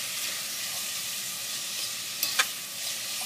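Clam chowder ingredients render down in a pot while being stirred, a steady soft frying hiss with a couple of brief spoon clinks and scrapes near the end, close and without talk.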